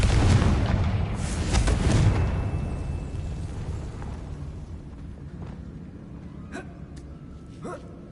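A Confringo blasting spell explodes in the wizarding video game Hogwarts Legacy: a loud, deep burst that rolls and fades over several seconds, followed by faint scattered clinks.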